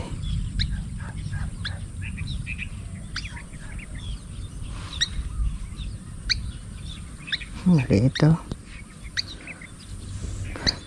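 Small birds chirp and call intermittently over a steady outdoor background, with a voice speaking briefly midway.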